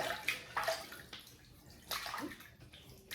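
Running water at a bathroom sink splashes in short bursts as hands scoop it up to wet a face before a shave, close and fairly quiet with no talking.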